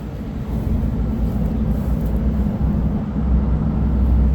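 A 2012 Freightliner M2 Altec forestry bucket truck idles with a low, steady engine rumble, and its cooling fan kicks in, building the roar louder and fuller toward the end.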